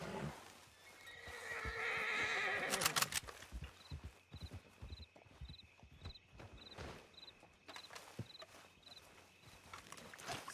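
In Red Dead Redemption 2 roleplay, a horse gives a loud drawn-out whinny, followed by a run of clip-clopping hooves, with faint game ambience in the background.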